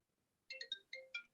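A phone ringtone chirps through a Zoom webinar on family law, a quick melodic burst of five bright beeps in two groups, clear and close, with no talking over it.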